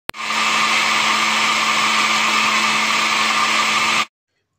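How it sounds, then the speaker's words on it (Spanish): A blender grinds a pineapple pie mixture with added gelatin, running at one loud, steady whir for about four seconds before cutting off abruptly into silence. "voy a regresar a moler otros 10 segundos"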